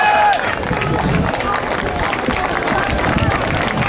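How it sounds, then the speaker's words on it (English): Crowd at a Brookline vs Newton North boys varsity high school football game cheering and clapping in a steady outdoor roar, with voices talking close over the noise. "Why are they cheering?"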